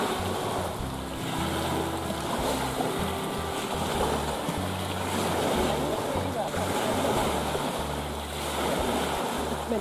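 Trimaran sailboats racing on open water in a Danish autumn regatta, with steady wash of waves and wind buffeting the microphone throughout, a continuous rushing surf texture close by.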